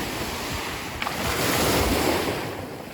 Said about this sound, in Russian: Шумом прибоя, друзья.